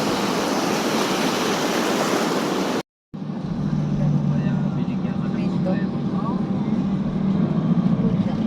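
Loud, continuous roar of ocean surf and rushing water at Real, Quezon, cutting out briefly before resuming with a lower churning rumble.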